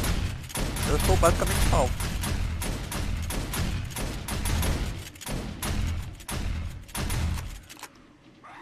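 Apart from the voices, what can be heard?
automatic gun defenses firing at horde in 7 Days to Die video game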